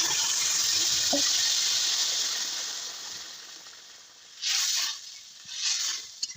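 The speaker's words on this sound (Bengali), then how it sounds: "এবার এখানটাতে দিয়ে দেবে যে নামিয়ে রাখা মাছের ঝোলটা" Fish curry broth from rohu (rui) poured into hot oil in a pan, giving a steady loud hiss and gush that fades, followed by two short sizzling surges near the end.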